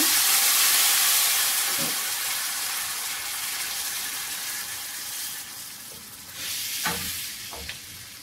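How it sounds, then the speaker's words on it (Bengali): Spices including coriander powder, garam masala and a dried lemon frying with a little water for tuna khabsa, a loud steady steamy sizzle with a few stirring scrapes later on. "সামান্য পানি দিয়ে মশলাটা কষিয়ে নেব।"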